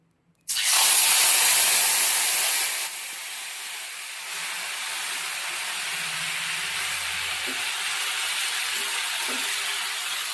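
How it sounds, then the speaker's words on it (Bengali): Black gram dal ladled into hot oil on a gas stove, bursting into a loud sudden hiss that stays strong for a couple of seconds, then settles into a quieter steady sizzle with faint clinks. "তেলের মধ্যে হাতায় করে ডালটা দিয়ে দেবো গায়ে না ছেটকায় যাতে"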